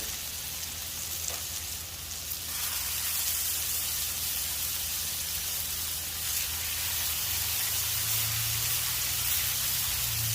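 Prime beef burger patties sizzle in a pan of butter, giving a steady, hissing fry close by with a faint low rumble underneath and no talking.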